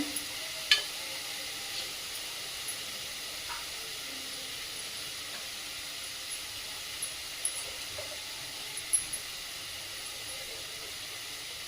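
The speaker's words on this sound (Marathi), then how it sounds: "आता सर्व भाज्या छान अशा परतून घ्यायच्या आहे" Peas, carrots and other mixed vegetables sauté in a pan with a soft, steady sizzling hiss and occasional light clicks of stirring.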